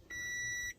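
An 8KS turbo timer fitted in a car gives a single clean electronic beep about half a second long, steady and alone.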